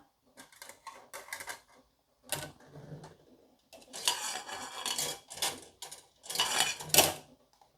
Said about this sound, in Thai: เราก็จะเอาหมูน้ำปลามาหั่น